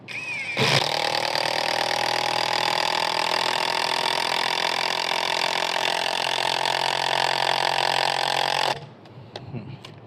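A Masaru SCDI-145 cordless impact driver drives a 4-inch screw in one continuous, loud, buzzing hammer that runs for about eight seconds, then abruptly stops, leaving brief faint clatter.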